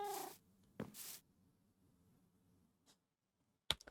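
Cat sounds in a video game, a couple of short soft cat vocalizations and a brief meow-like cry near the start, then quiet with faint clicks.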